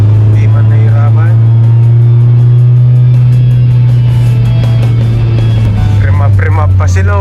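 An old car's engine labouring uphill in second gear on a Baguio mountain road, a loud, steady low drone heard from inside the car, with muffled voices in the background.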